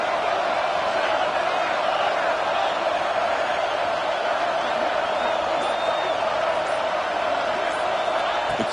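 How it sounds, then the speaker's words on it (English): Football stadium crowd at an Ohio State versus Oregon game roars steadily on a fourth down, a dense, sustained wall of cheering and whooping that stays loud throughout with no pauses. "The crowd is roaring, trying to help this defense on fourth down"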